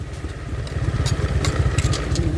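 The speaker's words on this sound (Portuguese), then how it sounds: "Ó, a moto em movimento." A Honda Biz motorcycle engine running in third gear while riding, a close, steady, low putter with a rapid pulsing rhythm and some mechanical clatter, holding fairly even without speech.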